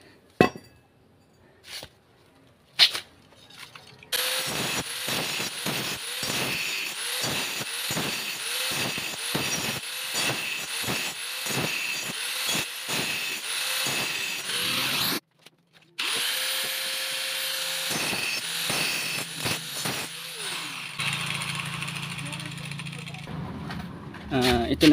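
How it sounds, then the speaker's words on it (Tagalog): Angle grinder cutting through metal while building a used-oil stove, a loud sustained whine with rapid rhythmic rasping pulses, broken by one brief pause before the grinding resumes and settles into a steadier tone. "Isa pang grinder."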